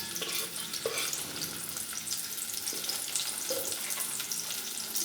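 Sliced small onion sizzles in a few tablespoons of oil, a dense continuous crackle broken by occasional scraping stirs of a spoon through the pan, with no talking.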